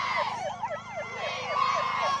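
A wailing electronic siren sweeps up and down in rapid, repeated cycles, loud and continuous, signalling the start of play at a sports tournament.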